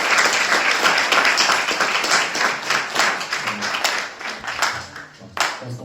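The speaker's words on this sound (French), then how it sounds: "nous voulons encore applaudir et accueillir encore une fois tous les frères qui sont pour la première fois dans" A church congregation applauds together, a dense, steady wash of clapping that lasts throughout and swells briefly near the end, with faint voices underneath.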